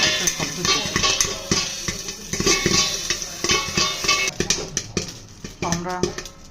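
Popcorn popping as it fries in a covered pan, sharp irregular pops and clatters against the lid, loud and close, with a voice talking over parts of it.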